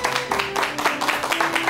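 Applause rises from a studio audience at a Korean talk show as a guest is introduced, a short stretch of steady, moderately loud clapping.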